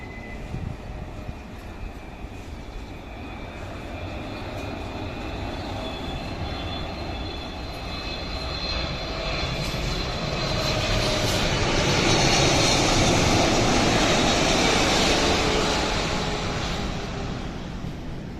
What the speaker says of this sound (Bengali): এয়ারলাইন্সের বোয়িং ট্রিপল সেভেন মডেলের একটি বিশাল বড় বিমান